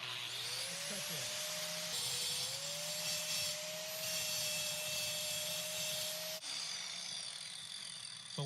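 An angle grinder cuts through a workpiece and then rounds and grinds it, a steady high-pitched whine lasting throughout with a brief dip in pitch partway and a shift in tone near the end as the cut changes to grinding.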